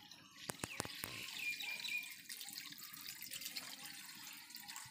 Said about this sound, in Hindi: यहाँ पर पानी देना है